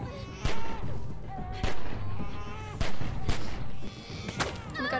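In The Walking Dead video game, a series of loud, spaced gunshots rings out, about half a dozen sharp blasts with a bleating baby's cry and voices in between.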